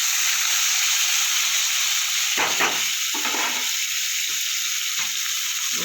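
Raw tomatoes frying in hot oil with whole cumin, a close, continuous hissing sizzle with a few sharper spattering bursts partway through.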